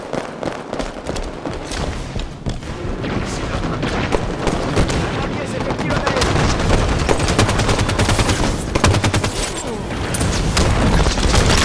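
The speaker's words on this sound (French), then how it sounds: "Y'en a des tirs ici." Dense, sustained automatic gunfire and bursts of shots from the video game Halo 5, loud and continuous with booming impacts, building in intensity toward the end.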